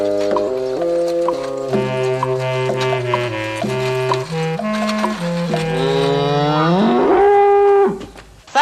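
Cattle lowing in a 1960s British comedy film scene in India, several long drawn-out moos rising and falling in pitch over about eight seconds, loud and close with no talk.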